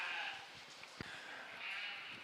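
Sheep bleat in a youth show ring at a sheep expo, faint and distant under a steady crowd hum, with one brief call standing out.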